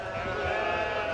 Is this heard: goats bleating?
yes